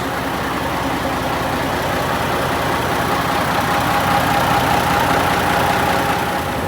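Gardner diesel engine aboard a 55 ft Dutch Luxemotor barge, running with a steady, even idling rumble that stays close and constant throughout.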